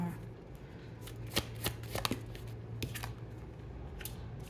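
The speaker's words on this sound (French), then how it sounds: "Je vais sortir que 3 cartes. Peut-être une quatrième au besoin." Tarot cards drawn from a deck and laid out on a table, soft close shuffling and card slaps at an irregular pace, faint against a low background hum.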